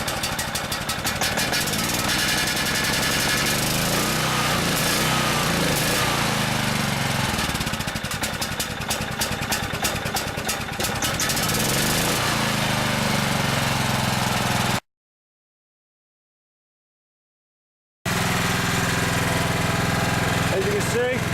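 A small gasoline generator runs close by with a loud, steady mechanical drone and rattle, broken by a few seconds of silence before the engine noise returns.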